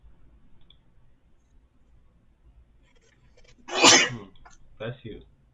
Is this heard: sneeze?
yes